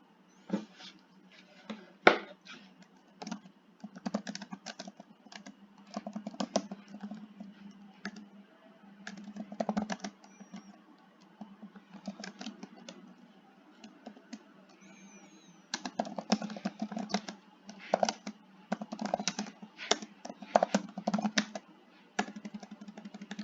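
Typing on a computer keyboard, fast, close clicking keystrokes in uneven bursts with short pauses over about twenty seconds, alone in a quiet room.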